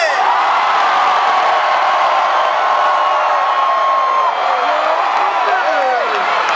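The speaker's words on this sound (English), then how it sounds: "I need you to scream at the top of your motherfucking lungs" A large concert crowd in San Diego screams loudly and continuously, a dense roar of many voices with whoops and shouts rising over it, close and sustained throughout.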